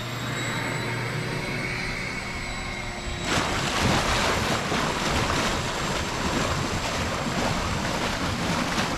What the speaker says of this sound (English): This is what it should look like while you're blowing your main drains.